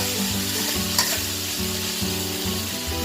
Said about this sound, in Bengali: আমার ঢ্যাঁড়স ভাজিটা হয়ে যাবে